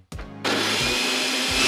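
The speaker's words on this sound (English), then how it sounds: "I've even got a remote for my blender." A kitchen blender starts up after a brief lead-in and runs as a loud, steady whir that holds to the end with no one talking.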